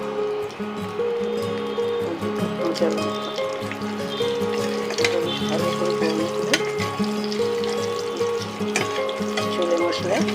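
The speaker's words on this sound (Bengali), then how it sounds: "দিয়ে দিলাম হিংটা বেশ ভালো করে ভাজা করে" Asafoetida sizzles steadily in hot mustard oil, a close, continuous frying hiss with a voice talking over it.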